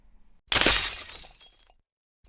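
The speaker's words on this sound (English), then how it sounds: "The kinetic energy is enough to break many types of glass." A pane of glass bursts and shatters from a shot of an S2 salt and pepper launcher, a sudden loud crash followed by tinkling shards that fade out over about a second.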